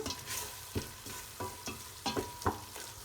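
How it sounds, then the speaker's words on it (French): A spoon scrapes and stirs harira soup ingredients, including fresh strawberries, in a pot, giving about six irregular, close-up scraping strokes over a soft background sizzle, with no talking. "Je vais mélanger un petit peu"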